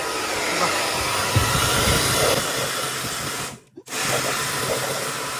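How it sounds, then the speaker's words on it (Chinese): A hair dryer blows hot air onto a part of a washing machine that will not drain. It makes a loud, steady close whoosh that cuts out briefly near the end and then starts again. "刚才用这个吹风机加了一下热"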